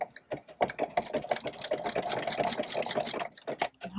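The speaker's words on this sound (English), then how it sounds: "Let me butt these up and sew this just a little bit better." A sewing machine runs at fast speed stitching denim for a tote bag made from old jeans, a loud close whirring burst with rapid needle clatter, pausing briefly near the end.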